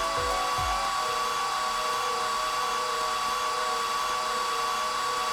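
A hair dryer in the Apollo Justice video game blasts over wet plaster as a steady, loud broadband whoosh that holds for several seconds, with a couple of brief low thumps at the start.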